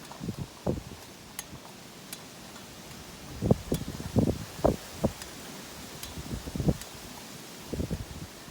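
Steady wind noise with gusts buffeting the microphone at a pumping station, punctuated by rustling and low thumps.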